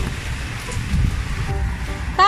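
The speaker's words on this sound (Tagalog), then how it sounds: "umuulan po." Steady rain falling outdoors in a garden, a broad soft hiss with low rumbling, continuous and fairly close, with a brief squeaky sound near the end.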